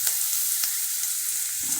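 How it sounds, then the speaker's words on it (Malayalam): Onions sautéing in oil with curry leaves in a pan for papaya thoran, a bright, steady hiss of frying, close and fairly loud, with no voices. "ഇനി സവോള ഒന്ന് മൂക്കട്ടെ കേട്ടോ."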